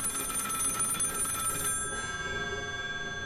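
Telephone ringing in the horror video game Finding Frankie, a bright electronic ring sustained loudly for over a second and a half before cutting off into a softer lingering tone.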